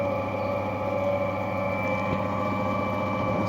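A lapidary polishing wheel spins on an Andamooka opal with a steady, loud motor hum and a continuous high whine, unbroken the whole time.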